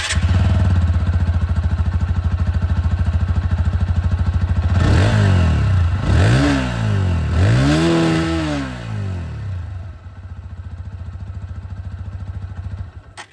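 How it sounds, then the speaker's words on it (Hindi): A 2025 TVS Apache RTR 160 2V 20th Anniversary Edition motorcycle idles close up with a steady exhaust thrum, then is blipped through three sharp revs before settling back to idle. "जो साउंड है वो भी मैं आप लोगों को यहाँ पर एग्जॉस्ट की सुना दूं"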